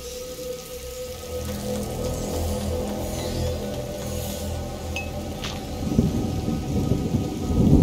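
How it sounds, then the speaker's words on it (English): Steady rainfall with deep rolling thunder in the video game A Plague Tale: Innocence, a continuous dense hiss under low rumbling that swells louder near the end. "Lucas, Hugo, stay out of the rain."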